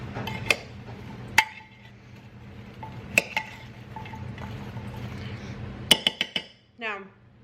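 A poblano meal prep is stirred in a dish, with a spoon clinking sharply against it at scattered moments and a quick run of taps near the end, close by over quiet background scraping.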